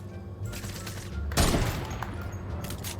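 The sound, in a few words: gunfire in the video game Fortnite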